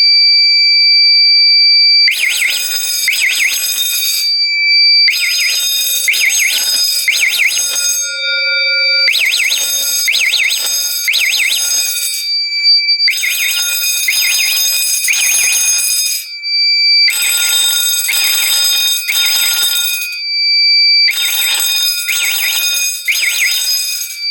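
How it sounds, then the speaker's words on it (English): A fire alarm system set off by pulling a Firelite BG12LX pull station sounds loud, repeating bursts of piercing electronic tones. Each burst lasts a few seconds and is followed by a short gap, and the pattern continues for the whole stretch. "we're going to go ahead and pull this Firelight BG12LX, even though it's a notifier"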